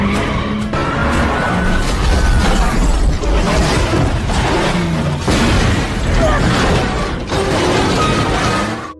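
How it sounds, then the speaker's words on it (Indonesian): A loud, dense film car chase, with a car crashing and rolling over: tire skids, heavy crunching impacts and shattering debris in a continuous roar. "Kejar-kejaran sengit membuat mobil Alexis terguling."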